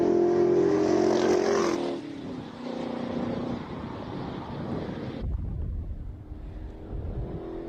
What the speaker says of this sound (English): Currently watching some AC Cobras.